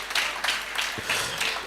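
Members at an evening event of a banking institute give a brief round of applause, a loud, steady wash of clapping hands with a few distinct claps standing out.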